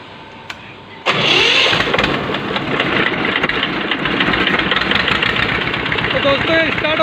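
A tractor diesel engine with diesel leaking into its engine oil cranks and fires up after a second of quiet, then settles into a loud, steady idle with a dense knocking rumble that runs to the end.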